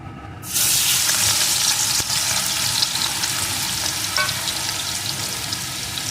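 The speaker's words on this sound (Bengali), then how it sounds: "এখন এর ভিতরে আমি লবণ হলুদ মাখানো চিংড়ি মাছগুলোকে দিয়ে দেবো" Prawns coated in salt and turmeric drop into hot oil in a pan with fried green chilli, starting a loud, close, steady sizzle that bursts in suddenly and continues unbroken, with faint utensil scrapes.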